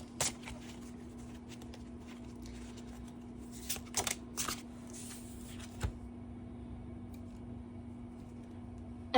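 Tarot cards are shuffled for a reading, with a few soft, quick riffling bursts close by against a quiet background with a steady hum, and no one speaking.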